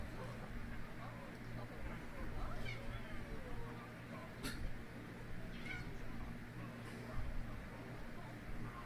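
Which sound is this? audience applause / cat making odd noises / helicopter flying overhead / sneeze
cat making odd noises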